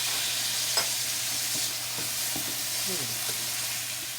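Herring going into a pot with peppers, tomato and garlic, giving a soft continuous sizzle and hiss with light stirring clicks, and a single short word spoken over it.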